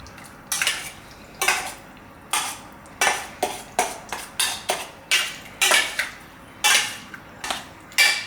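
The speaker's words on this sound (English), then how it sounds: "Using a tablespoon here, mix this up." A tablespoon mixes chicken pieces in a bowl for crispy sesame chicken, making about a dozen distinct clinks and scrapes against the bowl in an irregular rhythm. The sounds are close and fairly loud, with no talking.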